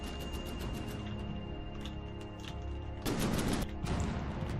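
Gunfire striking a slow bomber in From the Depths: a dense, continuous rattle of shots and impacts over engine drone, growing louder in a harsh burst toward the end, with no talking.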